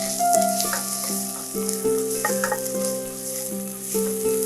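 Crushed ginger and garlic frying in hot oil for paneer butter masala give a steady, close sizzle, with soft tonal clinks and scraping from a utensil stirring the pan, and no voices.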